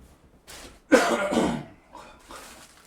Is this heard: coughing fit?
yes